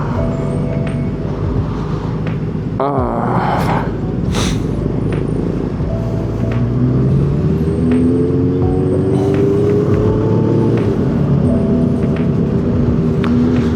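Steady road traffic in hot, congested Philippine streets: a continuous engine rumble with passing vehicles, a brief hiss like an air brake, and a rising drone from a nearby bus or truck, loud and close throughout.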